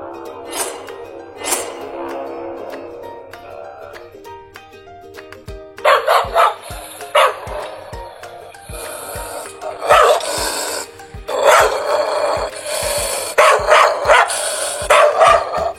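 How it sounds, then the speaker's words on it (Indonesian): A dog barks repeatedly, loud sharp barks in irregular bursts that grow denser in the second half, heard alone over a faint steady low hum. "Itu suara anjing menggonggong."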